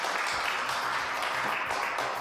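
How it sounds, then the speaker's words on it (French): A television studio audience claps for Kelly, a brief, dense burst of steady applause with no voices over it. "Allez, on applaudit très très fort Kelly qui va rester avec moi tout au long de l'émission."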